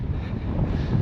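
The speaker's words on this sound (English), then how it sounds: "It's incredibly windy." Strong wind buffets the microphone on a leveled, coverless mountaintop at the Buzludzha Monument in Bulgaria, a dense low roar with gusty fluctuations, close and steady, with no voices.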